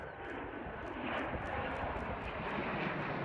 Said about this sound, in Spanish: Son aviones franceses e italianos en los cielos de Estonia en maniobras conjuntas